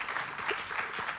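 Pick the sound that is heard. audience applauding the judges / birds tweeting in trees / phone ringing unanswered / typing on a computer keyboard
audience applauding the judges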